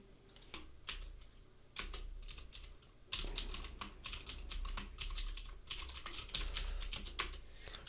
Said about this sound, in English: We click on a file and just type in something else.